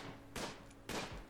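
Gunfire rings out in the strategy game RimWorld as two separate bursts of rapid shots, each roughly a fifth of a second long, loud and close against a low background.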